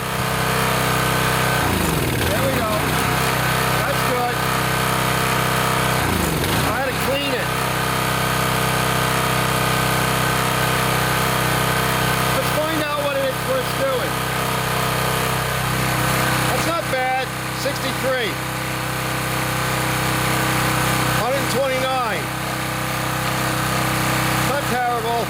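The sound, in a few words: Coleman 1850 portable generator engine running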